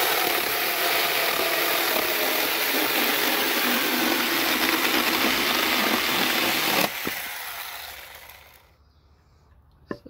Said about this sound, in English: So I've got a few bits of wood here to test out the saw on.